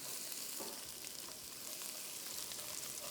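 Chopped garlic fries in oil for fried rice, a soft, continuous sizzle heard close and quiet with faint stirring and no voices.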